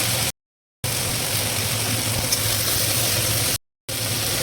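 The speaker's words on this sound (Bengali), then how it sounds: "তেলের উপরে শাক দিয়ে দিলাম" Kalmi greens dropped into hot oil in a pan fry with a steady, close crackling sizzle that runs on evenly and is broken by two brief silent cuts, with no voices.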